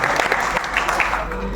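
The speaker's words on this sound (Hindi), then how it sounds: "एक बार जोरदार तालियां बजा दीजिए।" Audience applause at a mushaira poetry gathering in an auditorium in Lucknow, a dense, steady wash of many hands clapping at close range throughout.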